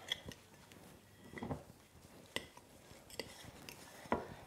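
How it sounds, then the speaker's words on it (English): A spoon stirs tempeh nugget mixture with tamari sauce in a bowl, making a few faint, scattered knocks and soft scrapes spaced out over a quiet background. "And now we'll stir it through."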